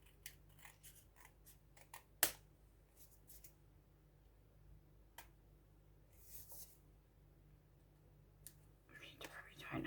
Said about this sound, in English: Might have to cut just a little bit off